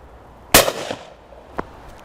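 A Blaser FBX shotgun fires a single sharp, loud blast that trails off in a short echo. A fainter crack follows about a second later, likely a distant shot, and no one speaks.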